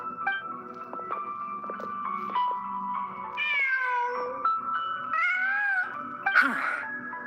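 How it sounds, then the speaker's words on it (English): Inside the Genshin Impact video game, a cat meows in drawn-out wailing tones. The cries rise and fall over a steady backdrop of layered game music, ending in a brighter burst. "Huh. Just a cat."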